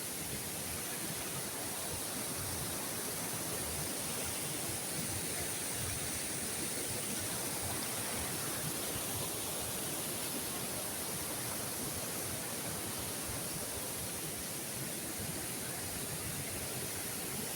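The Amakunda waterfall at Khairput in Malkangiri roars as a steady, unbroken wash of rushing water, even and moderately loud throughout, with no talking.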